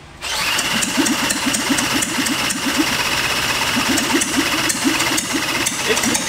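A military four-cylinder engine built into a go-kart cranks over and catches, then runs with a fast, clattering mechanical rhythm and sharp ticking, loud and close, without talk.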